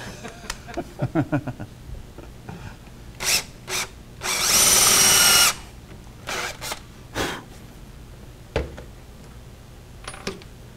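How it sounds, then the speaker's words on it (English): Power drill driving screws while a wooden step stool is built, several short whirring bursts and one longer sustained run, with clicks and small clatters of tools and parts between them. "this is why we needed more drills, so we wouldn't have to be changing these bits back and forth"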